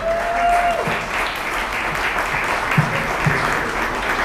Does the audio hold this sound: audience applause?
yes